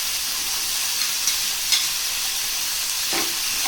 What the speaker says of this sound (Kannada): ಈಗ ಚೆನ್ನಾಗಿ ಫ್ರೈ ಮಾಡ್ಕೋಬೇಕು